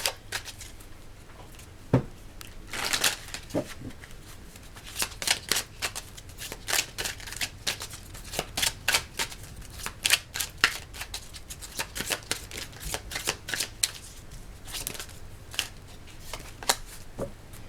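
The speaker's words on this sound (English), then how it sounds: "let's get another card from the Sibyls Oraculum" Sibyls Oraculum oracle cards being shuffled by hand: close, crisp riffling and flicking in quick uneven bursts with short pauses between them, going on steadily with no talking.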